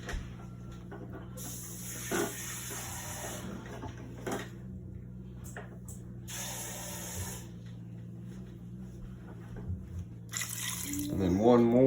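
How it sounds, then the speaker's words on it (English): Water is poured from a tap into a pot of pinto beans in several short bursts of splashing, separated by quieter pauses with faint handling noises. "you're going to add 5 cups of water"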